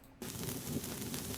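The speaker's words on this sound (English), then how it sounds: "And the sparks sound like this. And this is just the standard Unreal Engine sparks." A steady, dense crackling hiss of the standard Unreal Engine sparks effect starts abruptly and continues evenly, bright and fizzy, like a looping burst of electric sparks.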